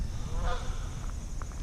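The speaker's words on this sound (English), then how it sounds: "Geese are out, as you can see, interrupting my video as usual." Geese honking outdoors beside the North Fork of the Holston River, a few short calls rising late in the clip over steady background noise.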